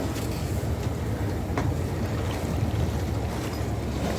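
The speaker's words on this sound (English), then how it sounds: "So let's enjoy these waves for a while." Sailboat riding big, open-sea waves on the Bay of Bothnia, a steady roar of wind and rushing water with low rumbling wash and occasional splashes, continuous and fairly loud with no talking.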